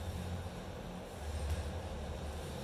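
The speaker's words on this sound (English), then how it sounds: "You can now hear the U-Bahn going outside." A U-Bahn train rolls past outside with a low, steady rumble and faint wheel noise, heard distantly and quietly without talk throughout.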